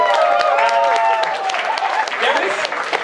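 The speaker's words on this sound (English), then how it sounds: "So big applause to you." A crowd at an adventure-themed party gives loud, continuous applause from start to finish, with voices and cheering mixed through the clapping.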